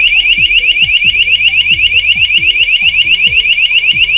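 A loud electronic door alarm, triggered by the door opening, pulses in a rapid, repeating warble without pause, with dull knocking thumps underneath.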